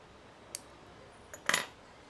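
A half-rim spectacle lens thread is snipped: a faint tick, then a sharper metallic click-snap, alone in a quiet room.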